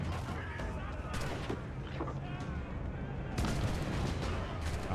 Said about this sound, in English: now I think I have to kill 3 crewmen with the swivel gun